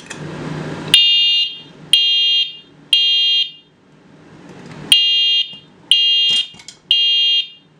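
A Gentex EST fire alarm horn sounds during a system test, blaring loud, piercing electronic blasts in a rhythmic pattern of roughly half-second bursts with short gaps, close and alone.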